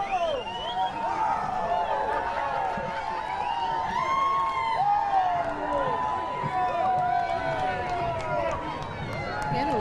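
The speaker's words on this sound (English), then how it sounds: "Everybody cheering on the men and women in blue." At a St. Patrick's parade in Holyoke, a crowd cheers as police march past, with steady outdoor crowd noise, scattered whistles and shouts, and someone talking over the scene.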